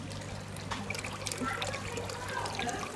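Water trickles and pours steadily into an aquaponics system at a garden, a soft continuous splashing with a low hum running beneath it.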